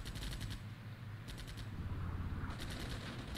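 Rapid bursts of gunfire ring out in the Armored Brigade video game during a main battle tank engagement, three short rattling volleys separated by pauses over a low rumbling background.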